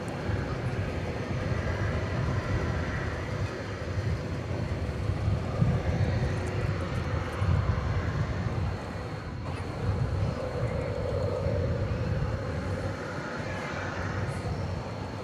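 A steady, moderate airplane engine rumble and hum at DFW Airport at night, droning evenly throughout with a faint wind-like hiss layered on top.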